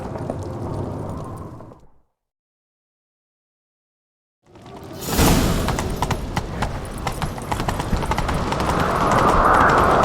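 Rumbling sound cuts to silence for a few seconds, then hooves thunder in a fast, continuous gallop, loud and close, in The Witcher 3: Wild Hunt.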